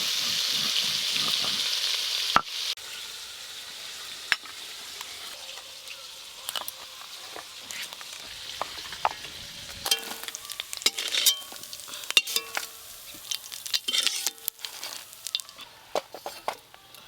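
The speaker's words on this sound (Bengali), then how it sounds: "এই দেখুন মাছগুলো একদম লাল লাল করে মচমচে করে ভেজে নিয়েছি" Small puti fish crisp in hot oil in a pan, a soft steady sizzle with scattered sharp pops and crackles that grow busier toward the end, close and fairly quiet.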